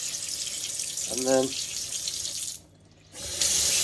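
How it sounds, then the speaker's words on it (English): Filtered cold water runs from a pull-down kitchen tap in a steady close hiss that stops briefly and then resumes; someone speaks over it with a short hummed tone early on. "Pull it down. That's filtered water. It's filtered cold."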